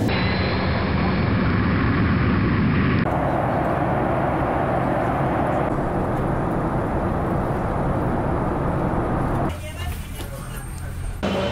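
Steady broadband cabin roar of a passenger airplane in flight bound for San Jose, continuous and loud, with a sudden shift in tone partway through and again near the end.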